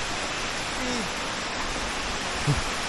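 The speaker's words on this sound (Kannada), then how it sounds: "ಈಗ ಅಲ್ಲೇ ಬಿಸಿಲು ಜೊತೆನೂ ಮಳೆ ಇದೆ." Rain falls steadily in a forest on a trek near Somavathi Falls at Bammikonda, a constant broadband hiss with a brief soft thump near the end and no clear talk.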